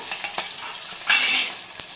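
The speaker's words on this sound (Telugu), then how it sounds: "ఒక 2 ఎండుమిర్చి వేసినాక 2 పచ్చిమిర్చి, ఉల్లిగడ్డ కూడా వేసి వేగుతున్నప్పుడు" Dried red chilies, green chilies and onion sizzle and fry in a pan, a steady close crackle with a few sharp spatters and stirring scrapes.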